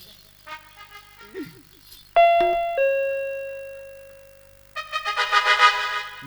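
A doorbell chimes loudly with a sustained ding-dong tone, followed by a bright, rapid ringing bell after a few faint bird-like chirps, during a Chhattisgarhi Nacha folk theatre comedy performance.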